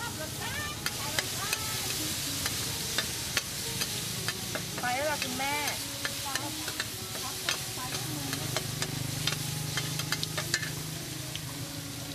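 Thai street vendor stir-frying pad thai in a pan with green onion, vinegar, sauces and bean sprouts: steady sizzling with repeated clanks and scrapes of the utensil against the pan, close and continuous throughout.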